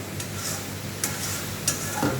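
Egg curry with potatoes is stirred and sautéed in a pan, a steady soft sizzle broken by a few sharp scrapes and taps of the spoon, close and fairly quiet.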